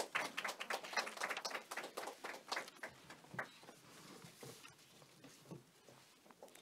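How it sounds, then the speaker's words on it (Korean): A small audience at a parent-association education forum gives scattered applause to welcome a speaker, distinct claps loudest at first and then thinning and fading away. "우리 큰 박수로 맞이해 주시기 바랍니다."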